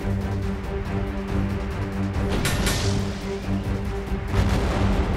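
A cartoon missile launches and explodes in a Hindi kids' adventure story, with booming, crashing blasts and a bright burst near the middle, all over a steady musical background.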